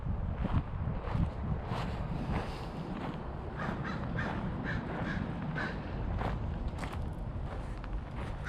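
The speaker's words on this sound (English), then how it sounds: "Hear the crows." Crows caw repeatedly at Centerville Pioneer Cemetery in Fremont, California, with harsh calls scattered across the clip over steady wind rumble and footsteps crunching close by.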